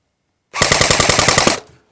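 GSG 522 RIS blowback AEG airsoft rifle firing one rapid full-auto burst of about a dozen sharp rhythmic shots, loud and close, lasting roughly a second before cutting off.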